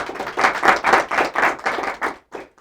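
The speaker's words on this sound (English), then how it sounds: "let's go ahead and give a round of applause to Mario" Sparse applause from a small audience welcoming a guest speaker in a small town, a few distinct hand claps in a loose rhythm, close and fairly loud, tapering off to a last couple of claps with no talk over it.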